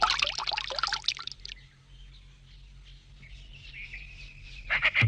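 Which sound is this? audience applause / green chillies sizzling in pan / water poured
water poured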